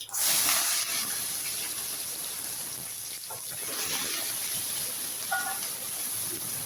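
Chopped small onions and a big onion sautéing in hot oil for karamani kozhambu, a loud steady sizzling hiss that bursts in at the start and runs on continuously, with faint stirring clicks.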